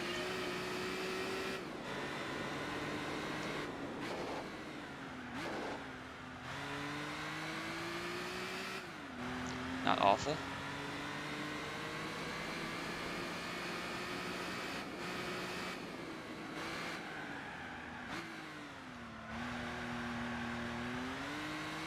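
A car's engine in the video game Gran Turismo 4 during a license test revs and climbs through the gears, pitch rising and dropping with each shift, with a brief squeal midway and a short spoken remark over it.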